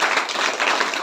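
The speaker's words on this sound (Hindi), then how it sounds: "ताली बजाकर परमेश्वर।" A church congregation at a Saturday prayer meeting claps in praise, a dense, loud burst of many hands beating together with no pause.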